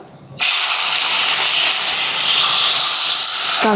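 Chopped onion hits hot oil in a kadhai and erupts into a loud, steady hissing sizzle that holds from start to finish, with no voices over it.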